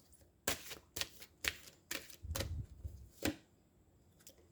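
Oracle cards drawn and shuffled from a deck, a quiet, close series of crisp slaps and riffling flicks, about eight in irregular rhythm over four seconds.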